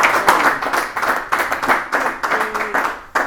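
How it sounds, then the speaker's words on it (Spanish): An audience claps at a public conversation event with Ignacio Walker, producing steady pulsing waves of hand clapping that continue throughout at close, moderate loudness. "Un aplauso."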